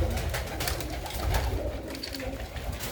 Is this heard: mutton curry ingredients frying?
no